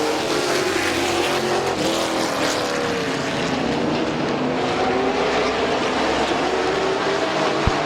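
Race cars at Midvale Speedway roaring around the track after a green flag restart, a loud, dense engine drone with rising and falling pitch as cars sweep past, continuous throughout.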